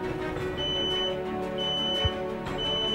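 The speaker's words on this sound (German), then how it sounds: "Der Rauchmelder geht los." A high electronic smoke alarm in a fire brigade smoke training house chirps in repeated short tones over a steady low hum, with a soft thump midway.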